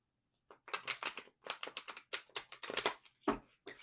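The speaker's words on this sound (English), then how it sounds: "while I'm shuffling these tarot cards" Tarot cards being shuffled by hand, a run of crisp papery riffles and flicks in quick irregular bursts, close and fairly quiet, with no talk over them.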